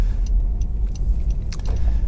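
A 2010 Honda CR-Z 1.5 IMA GT hatchback on a road test drive, heard as a steady low engine and road rumble from inside, with a few faint clicks and rattles over it.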